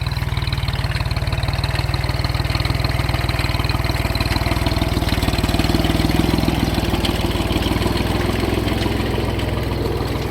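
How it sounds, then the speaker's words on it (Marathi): A tractor engine chugs loudly and evenly during a farm ride at a farm villa near Shirdi, Maharashtra, a close, steady low rumble with a rapid knocking pulse that never lets up. "Tractor ride."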